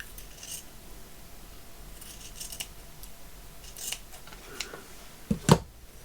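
Scissors snip through paper for a shabby vintage journal, a few soft quiet cuts spread across the clip before two sharper, louder snips near the end, no voices.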